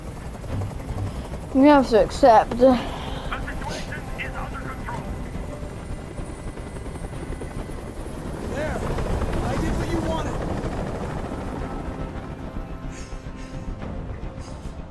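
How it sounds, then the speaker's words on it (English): A helicopter hovers in the video game Detroit: Become Human, its steady rotor roar filling the background while someone speaks briefly over it near the start; the drone swells somewhat louder midway and then holds. "Tell that helicopter to get out of here."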